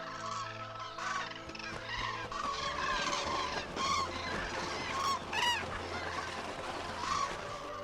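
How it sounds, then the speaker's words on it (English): Departing migrating cranes call in a chorus of overlapping trumpeting, honking cries over marshland, with a low steady rumble beneath, fairly distant and continuous. "The voices of departing cranes have a peculiar power."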